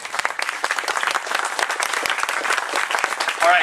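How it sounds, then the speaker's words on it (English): An audience at a talk applauds, with crisp, dense clapping sustained throughout at close to moderate distance and a brief voice near the end. "Would you give him a great round of applause?"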